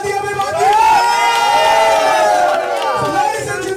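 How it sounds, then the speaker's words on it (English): Loud crowd cheering and whooping at a Bollywood film audio launch event, a sustained roar of many voices with a shout rising over it, continuing steadily for several seconds. "give a huge round of applause"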